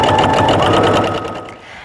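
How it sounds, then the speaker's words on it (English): Sewing machine running steadily while top stitching along the long edges of tote bag pieces at a 3.0 stitch length, a close, continuous whirring buzz that slows and fades near the end. "Now I'm just gonna top stitch along the long edges that we've already sewn."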